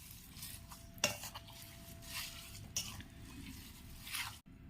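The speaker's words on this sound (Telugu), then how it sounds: "ఇప్పుడు దీన్ని మొత్తం ఒకసారి కలిపేసుకుందాం." Chopped mango pickle stirred together with oil and cooled tempering, a spoon scraping and clinking against a steel vessel in a few soft strokes, with a faint wet squish between them and no talk.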